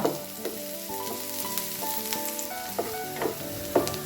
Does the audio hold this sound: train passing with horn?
no